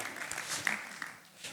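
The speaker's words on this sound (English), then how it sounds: "Give him a round of applause." Audience applause rises for Marvin at a nature festival, a brief burst of clapping that stays moderately loud and steady before thinning out at the end.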